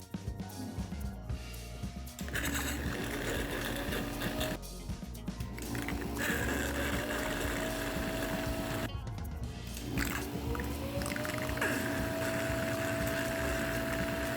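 A small motorized nasal aspirator at maximum power suctions mock mucus through a silicone hose with a steady whirring drone, stopping briefly twice before restarting, a rising whine as it spins up.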